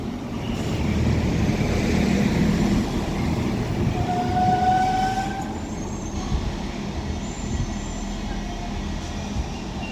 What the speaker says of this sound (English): 197 is on this one with the 1054 Transport for Wales service to Llandudno from